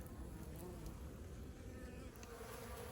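Honey bees buzzing around a hive in late winter in Maryland, a faint continuous low hum of many insects with occasional louder passes close by.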